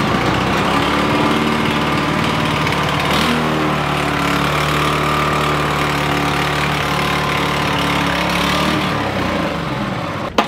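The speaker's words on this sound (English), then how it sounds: "Let's start up the 518 snowblower." A Toro 518 snowblower engine of 4 to 5 horsepower, started in cold weather on a driveway, runs loud and close with a steady droning rumble that shifts pitch partway through, then cuts off at the end.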